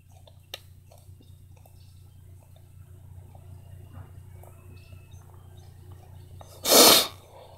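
A single loud sneeze bursts out near the end of an otherwise quiet stretch, close and sharp over a low steady hum.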